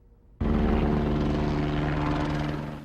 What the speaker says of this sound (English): A U.S. Customs helicopter was on the scene here